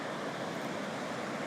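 The Deschutes River rushing fast past the bank, a steady, loud, close wash of water noise that stays constant throughout.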